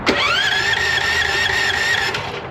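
A 13 horsepower gas motor belted to a compressor cranks without catching, giving a loud, close whining squeal that rises quickly, holds steady for about two seconds, then drops away.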